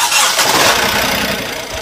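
A freshly repaired car engine turns over and starts in a workshop in Kolkata, a loud, steady mechanical roar lasting under two seconds with no voices.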